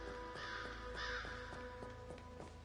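Crows caw repeatedly in Honkai Star Rail's Xianzhou Luofu, around the Alchemy Commission, several harsh calls spaced about half a second apart over steady game ambience and a constant low hum.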